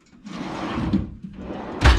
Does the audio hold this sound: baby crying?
no